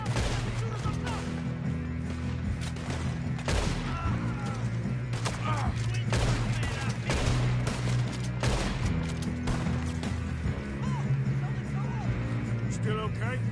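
Rapid gunfire volleys from a Red Dead Redemption II shootout crackle repeatedly over a continuous musical score, with sharp shots scattered throughout the stretch at moderate level.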